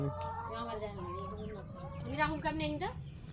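Chickens in a backyard coop cluck and murmur softly at close range, a steady low chorus of short calls.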